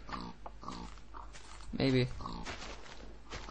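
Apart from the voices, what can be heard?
pig oinking in Minecraft video game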